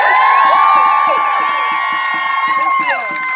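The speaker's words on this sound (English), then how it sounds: "Can we just give them all one more round of applause?" A crowd at a May Day rally in Newton, New Jersey cheers and whoops over rhythmic clapping, with sustained whistle or horn tones above, loud and close for a few seconds.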